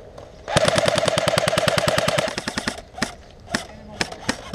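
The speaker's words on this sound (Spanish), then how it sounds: "está disparando el Franco de la izquierda" Airsoft guns fire at an outdoor game in Sevilla: a loud sustained automatic burst of rapid shots, then a few separate single shots spaced apart, with faint voices in the background.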